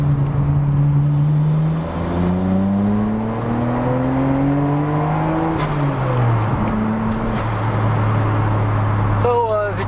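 A Nissan Skyline GTR R33 pulls hard through second gear, its engine note climbing steadily and loudly up close, then dropping as the throttle lifts, with a short squeal at the end.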